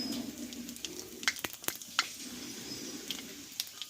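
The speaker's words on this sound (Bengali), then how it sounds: "এইবার এই তেলে দেবো হাফ চামচ মতো পাঁচফোড়ন" Panch phoron spices crackling in hot oil, a quiet background sizzle punctuated by several sharp pops and spits scattered irregularly, close and faint overall, with no talking.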